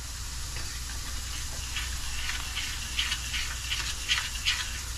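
Onions frying in bacon fat hiss and sizzle steadily in a pan, with crackling pops growing brighter toward the end, close and fairly loud with no talk.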